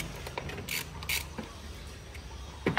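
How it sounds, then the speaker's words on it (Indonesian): A bolt is undone during maintenance on a Toyota Avanza, giving a few quiet ratcheting clicks and metallic creaks that come and go in short bursts under a faint background hum. "Ini kita buka baut PSP, jangan sampai jatuh."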